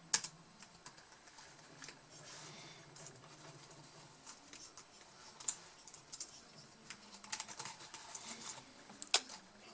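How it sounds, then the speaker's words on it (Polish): Fingers type on a Samsung NP535 laptop keyboard being tested after replacement, producing quiet, close, irregular clicks and key taps in uneven bursts, with a few sharper louder presses and no talking. "teraz sprawdzimy sobie tą klawiaturkę"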